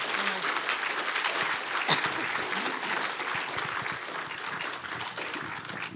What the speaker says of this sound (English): You can give the Lord a clap.